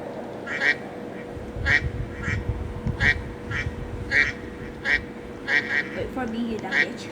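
Repeated cartoonish duck quacks from a Roblox bird obby game, about ten short calls spaced irregularly over a steady hum, loud and close, with faint background game sounds.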